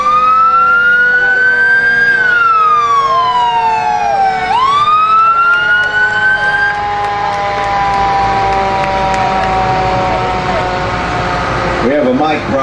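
A New Hope Fire Department fire engine siren wails through a parade, sweeping up and down loudly and close, then holding a steady tone over crowd and street noise, with a short horn-like burst near the end.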